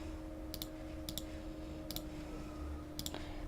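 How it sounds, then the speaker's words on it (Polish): A computer mouse clicks in quick double pairs, four crisp bursts spaced about a second apart, quiet and close over a faint steady background hum. "Klikam..."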